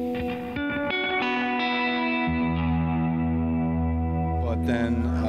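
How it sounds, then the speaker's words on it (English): A SolidGoldFX Counter Current reverb pedal gives a dark, deep reverb on a sustained, effected instrument tone, with steady droning harmonics and a lower swell entering partway through, loud and alone. "a really cool, darker, and maybe more sort of deep reverb than the Surfrider"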